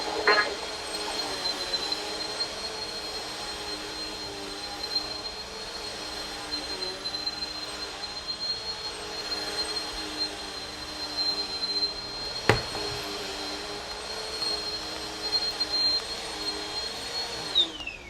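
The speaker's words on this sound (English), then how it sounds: "So I'm going to turn this on. There you go. You can hear that powerful suction." A vacuum cleaner with strong suction runs nearby, producing a steady high whine over an airy rush with one sharp click partway through, then winds down at the very end.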